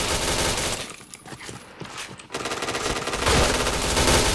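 Rapid automatic gunfire in the Point Blank shooter game, dense bursts of loud shots filling most of the clip with a brief thinner patch in the middle, no talk over it.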